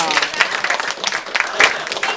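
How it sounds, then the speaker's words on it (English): A classroom of students gives a short, brisk round of applause, a quick burst of mixed clapping that rises and falls with a voice audible alongside. "Give them a round of applause."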